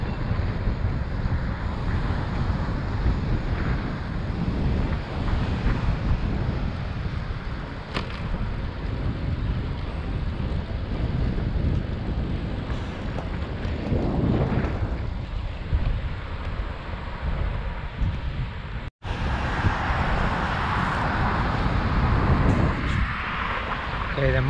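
Heavy wind buffeting roars across the microphone of a GoPro Hero7 Black on a bicycle ride outdoors in Harrisburg, PA, a constant loud rumble with a brief dropout near the end, and a voice is faintly present.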